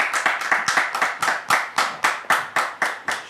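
Studio audience clapping to welcome a pastor onto a television talk show, brisk and rhythmic, close and alone with no talk.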